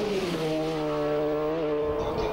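A racing motorcycle engine screams at maximum revs during the 1991 Isle of Man TT Senior Race, a loud steady whine with the pitch wavering slightly before easing off.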